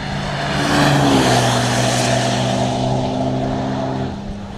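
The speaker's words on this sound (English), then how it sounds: "it looks like a wee Civic coming up just now." A Honda Civic passes on a wet race track at Knockhill circuit, its engine note swelling as it approaches and fading away over a few seconds, with a steady hiss of tyre spray lifting water off the surface.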